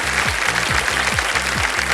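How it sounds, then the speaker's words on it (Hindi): A studio audience on the Indian quiz show KBC breaks into applause after a correct answer. The sustained clapping is fairly loud and sits over a repeating low rhythmic pulse. "ताली बज गई।"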